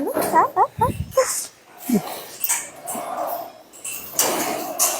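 A puppy at a cow shelter whimpers and gives short yips several times, close by and fairly loud, mixed in with people talking nearby.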